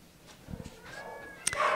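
A shelter cat gives a short meow near the end, with a rising tone after faint rustling, heard close and fairly quiet in a small kennel room.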